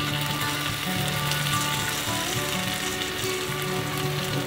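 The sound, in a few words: tomato paste sizzling in pan with softened vegetables and garlic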